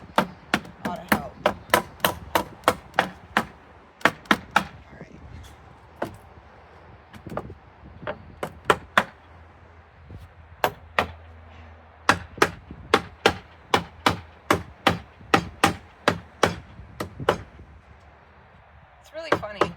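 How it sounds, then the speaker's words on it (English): Sharp hammer taps on wood while assembling a Flow Hive beehive kit, struck in quick bursts of several light blows with short pauses between, close and fairly loud. "just a little gentle tapping with this hammer"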